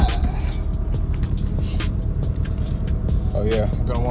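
A car rolls down the road with a continuous low engine and tire rumble heard from inside the cabin, steady for the whole stretch.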